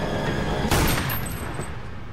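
A burst of gunfire erupts in a Supernatural TV episode, a loud rapid volley of shots that rings out and decays over steady background sound.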